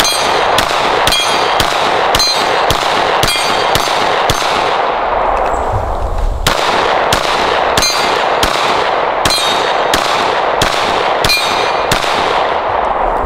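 A Glock 17 pistol fires at steel targets in a quick string of sharp, loud shots, each followed by a ringing metallic clang. The shots come in an uneven but steady rhythm, with a brief pause partway through.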